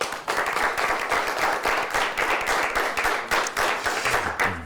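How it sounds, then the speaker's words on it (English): A studio audience applauds a winning quiz team in a continuous, close, fairly loud burst of clapping that holds steady throughout, with no talking over it. "A nice round of applause for Mount Pleasant."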